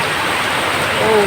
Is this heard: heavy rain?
yes